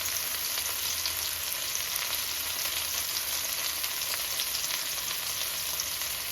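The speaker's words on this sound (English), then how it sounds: "Just move slightly in the pan." Mushrooms sizzling steadily in a hot pan, a continuous bright frying hiss with soft crackle that holds at an even level throughout, no voices.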